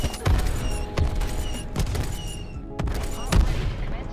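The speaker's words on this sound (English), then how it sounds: "War machine prepping fire." War Machine grenade launcher fire in Call of Duty Black Ops Cold War, heavy booming shots landing every second or so over a continuous rumble of in-game noise, loud and close.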